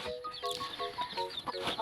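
Backyard hens kept for eggs cluck in a quick series of short, bright calls that come close together and fairly near, with no talking.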